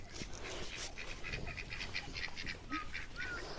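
Faint honking and quacking calls from a group of poultry settling in at dusk repeat over a soft, noisy background, with no voices.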